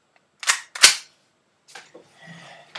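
Two sharp, close cracks of a high-powered BB gun firing in quick succession, followed by fainter clicks and a light rattle.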